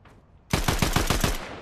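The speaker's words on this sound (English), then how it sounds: "She got sniped at by someone right here." In Fortnite, a burst of roughly seven rapid gunshots fires at a player after a moment of quiet, each crack sharp and close, no talking.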